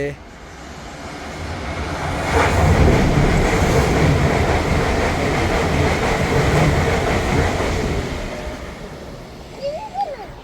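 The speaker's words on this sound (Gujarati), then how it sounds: "જો ટ્રેન આવે." A train rumbles past nearby, swelling to a loud rolling clatter of wheels on track, then fading away; a voice briefly speaks near the end.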